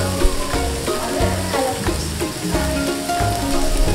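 Tempering for mango rice frying in a pan, a steady close crackling sizzle with light stirring scrapes across the whole few seconds.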